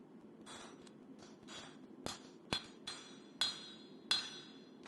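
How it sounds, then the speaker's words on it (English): A blacksmith hammers off excess steel from a forged Bowie knife blank over a hardy tool on the anvil: about six sharp, ringing metallic strikes at uneven intervals, growing louder toward the end over a low background hum. "Now I'll cut off the excess with another hardy tool."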